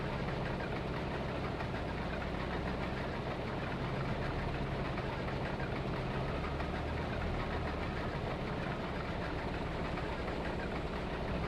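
A combine harvester engine in Farming Simulator 22 drones steadily with a dense, rumbling, slightly knocking mechanical roar, loud and unbroken throughout, no speech.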